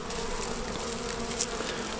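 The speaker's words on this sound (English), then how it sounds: "All the bees are on this side of the hive" Honeybees in a hive during winter feeding with fondant give a dense, continuous buzzing drone, close and steady throughout with a slight swell near the end, with no talk.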